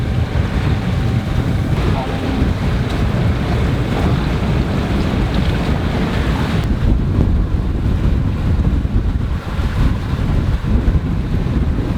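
Steady wind rushes and buffets the microphone while waves wash against the hull of a sailboat under autopilot in light winds of about 3 knots, a loud, unbroken roar that fills the whole stretch with no talk.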